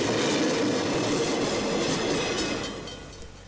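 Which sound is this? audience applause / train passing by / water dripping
train passing by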